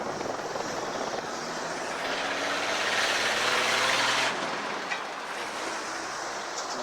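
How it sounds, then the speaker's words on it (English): Strong wind roars outdoors in Gatlinburg, Tennessee, a broad rushing noise that swells into a louder gust midway and then eases back, with no one talking. "Really, really windy."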